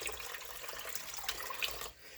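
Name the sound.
water poured into pot for simple syrup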